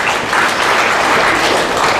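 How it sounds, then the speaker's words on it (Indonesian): A church congregation applauds in a dense, loud, even wash of clapping that holds steady from start to finish, with no voices breaking through. "Nah, beri tepuk tangan dulu"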